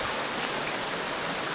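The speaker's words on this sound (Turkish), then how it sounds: "halen böyle yukarıdan yağmur suların inmesi, akan dere vesaire" Rainwater trickles down rocks into a flowing stream near the Erfelek Tatlıca waterfalls, a steady, even hiss of running water with no breaks, fairly soft and continuous.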